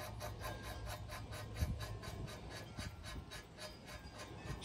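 An inch-and-a-half nut being threaded by hand onto the shaft of a Mercury 400 V10 outboard, giving a faint, steady metallic rasping with a regular grinding rhythm throughout.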